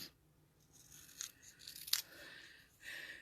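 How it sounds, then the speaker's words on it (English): Scissors snip through a paper circle in a few quiet, close cuts with short crisp bursts over a hushed room. "And then I bring my scissors and I just cut very close to create sort of like bangs."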